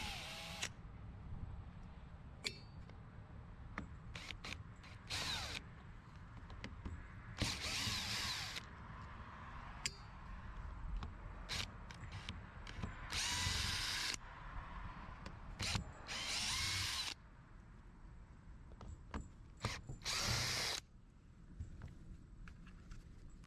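A power drill backing Phillips head screws out of a cheap belt-driven car polisher casing, in short repeated whirring bursts separated by quiet pauses and small clicks, close and fairly faint.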